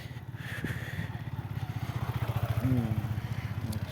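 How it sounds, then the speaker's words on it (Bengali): Two motorbikes approach along a dusty dirt road on a foggy winter morning, a close pulsing engine throb with a rhythmic putter, getting slightly louder, and a brief higher whine partway through. "এই যে দুইটা বাইক আসতেছে"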